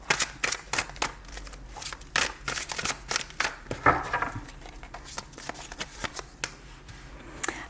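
Tarot cards being shuffled by hand for a general reading, close crisp riffling and slapping in quick irregular bursts, alone without talk.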